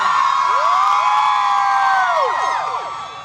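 An enthusiastic crowd at a Backstreet Boys 20th anniversary ceremony cheers loudly and steadily, with shrill whistles and whoops sliding up and down above a continuous roar.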